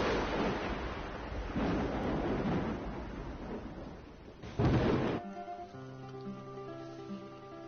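Thunder in a Korean drama scene, a deep rolling rumble with a sharper crack near the end that gives way abruptly to a soft classical guitar melody.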